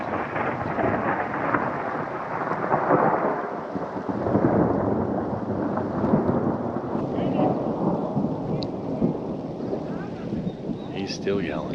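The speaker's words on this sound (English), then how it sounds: "just the sound of the rain and the lightning" A thunderstorm breaks over a fly-fishing spot. Steady heavy rain hisses throughout while deep thunder rolls rumble through it, loud and close, with wind buffeting the microphone.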